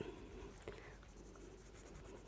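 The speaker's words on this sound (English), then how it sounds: "keeping the pencil actually quite blunt," A blunt Derwent Lightfast coloured pencil shading across paper, a soft continuous scratchy rasp with faint strokes, very quiet and close, with a low voice speaking over it at times.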